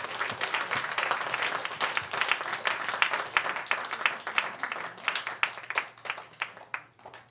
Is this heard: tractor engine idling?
no